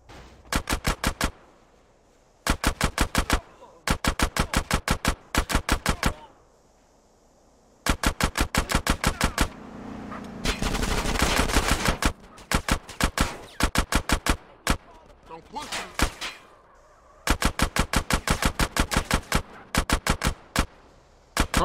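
Automatic gunfire in the video game GTA San Andreas: repeated rapid bursts of sharp, loud shots in rhythmic volleys, separated by short pauses, with an explosion-like rumble midway and occasional faint background game noise.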